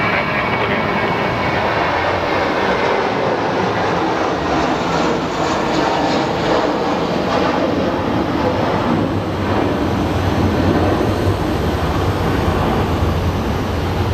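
An Airbus airliner lands on runway 8 at Phoenix Sky Harbor, a loud sustained jet roar rumbling steadily close by, swelling slightly toward the end.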